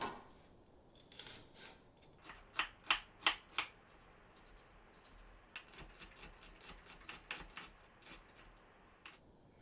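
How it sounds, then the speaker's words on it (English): Half an onion is finely diced with a knife on a board, giving quiet, quick rhythmic chopping taps in two short runs, with a louder cluster in the middle. "For the pork, we're going to finely dice half of an onion."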